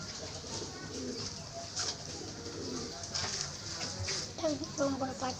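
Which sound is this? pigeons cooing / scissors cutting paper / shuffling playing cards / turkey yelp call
pigeons cooing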